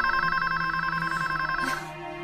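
A telephone rings indoors with a steady, moderately quiet electronic tone, heard alone without talk.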